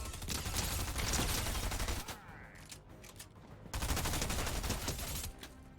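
Automatic gunfire in Fortnite, from a weapon with heavy recoil, comes in two long loud bursts separated by a short pause, with no talking over it.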